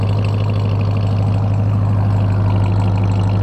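Supercharged Dodge Ram TRX pickup engine idling steadily, a deep, even low rumble with a strong continuous hum, close and loud throughout with no talking.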